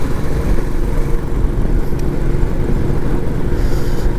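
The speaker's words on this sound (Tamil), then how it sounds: "பைபாஸில் நிறைய வண்டி வர ஆரம்பிச்சிருச்சு." Heavy vehicle traffic rumbles along a bypass road, a dense, continuous low roar of engines and tyres heard up close with no clear gaps, steady in loudness throughout.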